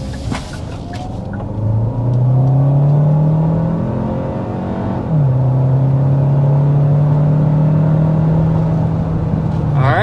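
A 2025 Hyundai Santa Fe hybrid accelerates uphill to just above 60 mph, its engine droning and climbing in pitch. A brief dip around the midpoint suggests a shift before the drone rises again, loud and close from inside the cabin.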